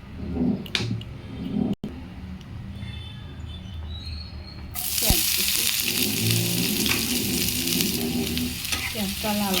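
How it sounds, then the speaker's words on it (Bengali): Onions dropped into hot oil in a kadai (wok): a quiet kitchen bursts into a loud, continuous close sizzle partway through, which carries on steadily to the end, with no talk. "পেঁয়াজটা লাল করে ভেজে নেব"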